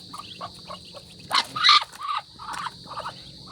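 Soft high peeping of newly hatched ducklings, a few brief calls scattered over faint background, one louder burst of chirps in the middle.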